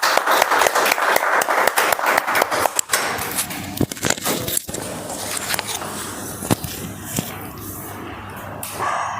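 Applause from an audience at a Toastmasters club meeting, dense and steady clapping with scattered louder claps, thinning toward the end with some background noise.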